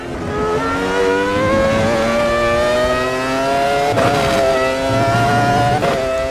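Screaming V10 engine of Michael Schumacher's 2001 Ferrari Formula 1 car in the AMS2 racing game, loud and continuous from the driver's position, rising and falling in pitch through gear changes across corners.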